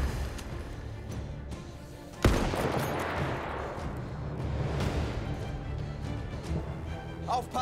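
Gunfire in the video game Battlefield 1: a sharp loud shot partway through, followed by scattered distant shots and battle noise under a low background.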